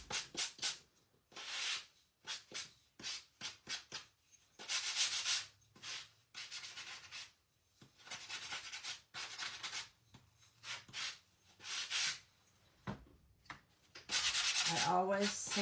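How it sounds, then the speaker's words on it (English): Sandpaper rubbing a small painted snowman craft piece for a shabby chic Valentine project, in repeated short strokes and a few longer passes, close and fairly quiet, with pauses between bursts. "I always sand everything just to make sure that everything is smooth."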